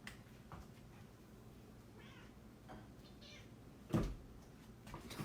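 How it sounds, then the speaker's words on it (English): A cat meows a few times in a quiet indoor room, soft and intermittent with one louder thump-like burst near the middle. "my cat just came up"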